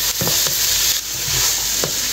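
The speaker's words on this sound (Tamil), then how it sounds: "ஃப்ரைட் ரைஸ் வந்து சைனீஸ் டிஷ்ஷுங்கிறதுனால நல்லா ஹை ஃப்ளேமில் வச்சு குக் பண்ணணும்." Vegetables for fried rice stir-frying in a pan over a high flame, giving a loud, constant sizzle with a few quick scraping strokes, close up and with no talking.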